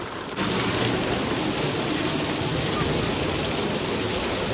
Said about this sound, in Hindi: हर की पौड़ी पर भी वही बारिश हो रही है